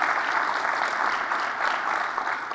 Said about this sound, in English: Please give another round of applause for Ark to come up there.